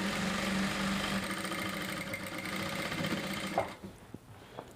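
A sewing machine runs a long steady seam on a reversible bubu jumpsuit, a close continuous mechanical drone that stops near the end, leaving a few light handling clicks.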